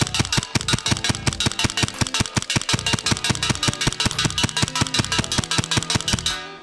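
A custom airsoft Hi-Capa pistol fires on full auto, giving a fast, steady stream of sharp, evenly spaced cracks that runs for several seconds before stopping abruptly.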